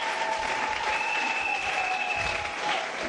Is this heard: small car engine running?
no